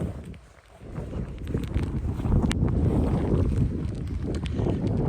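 Strong wind buffets a walker on a wet, windy South Downs hill, a heavy coat flapping; the dull roaring gusts dip briefly near the start, then rise and stay loud and steady, close to the microphone.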